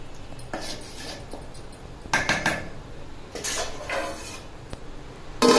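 Soaked rice is stirred into a pot of country chicken biryani, with scattered metallic scrapes and clinks of a ladle against the vessel, moderately close, between quieter pauses.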